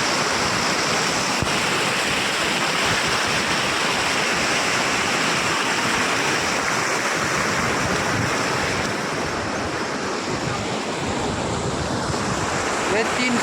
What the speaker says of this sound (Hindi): बहुत तेजी से पानी बह रहा है